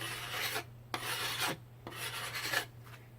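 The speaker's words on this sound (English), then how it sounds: "I'm going to do some quick scraping on this" A blade scrapes along a wooden bow stave in three long rasping strokes, each followed by a short pause, close and distinct over a low steady hum.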